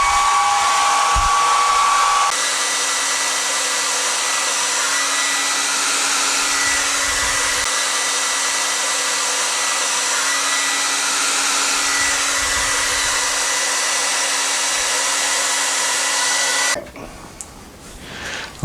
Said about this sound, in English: we're going to use what he has handy is a hairdryer